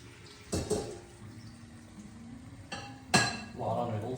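Noodles being drained through a sieve in a kitchen, with sharp metallic clanks of a pot and strainer and a rush of pouring water, loud and close, separated by quieter pauses.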